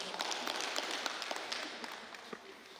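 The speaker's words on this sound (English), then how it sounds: "Please, a round of applause." Audience at an orientation event in Keffi, Nasarawa State, applauding: a brief burst of scattered clapping, fairly distant and modest, tapering off toward the end.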